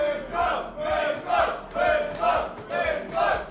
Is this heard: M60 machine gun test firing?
no